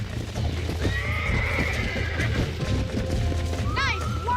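A bronco whinnies as it is broken in during a Red Dead Redemption-style ranch game, with a shrill neigh near the end over a constant background of hoofbeats and rumble, and voices talking throughout.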